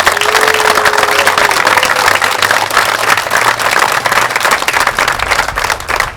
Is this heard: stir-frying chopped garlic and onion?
no